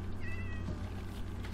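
A cat meows once in the video game Minecraft, a clear mid-pitched cry near the start over a steady low background hum.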